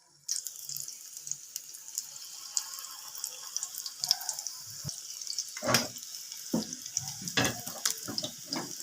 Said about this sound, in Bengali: তেলটা তো গরম হয়ে গেছে, এবার তেলের মধ্যে দিয়ে দেবো।